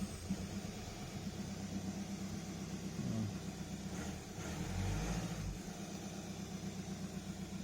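A Volkswagen Passat B6 diesel engine idling steadily nearby after glow plug replacement, with a couple of brief revs swelling the low rumble before it settles back to a smooth idle.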